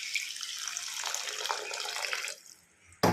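Water splashes into a pan of tomato and chilli curry for a dried fish and egg pulusu, a close, bright rushing pour lasting about two seconds before it stops, followed by a short clatter at the end.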